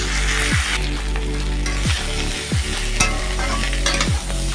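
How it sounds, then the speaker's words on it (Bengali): Turmeric, chili powder, ginger paste and vegetables are stirred in a frying pan for a poppy-seed fritter curry, with repeated scraping strokes of the spatula about once a second over a continuous loud sizzle, no talking. "এই যে সব মশলাটা খুব ভালোভাবে নাড়াচাড়া করে নিয়েছি"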